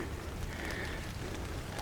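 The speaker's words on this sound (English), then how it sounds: "you hear the sound of the rain on the canopy" Rain falling on the tree and shrub canopy of a seaside garden on Cape Cod, a soft, steady, dense patter with a faint background hiss, continuous and without speech.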